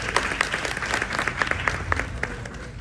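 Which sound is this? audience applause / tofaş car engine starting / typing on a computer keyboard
audience applause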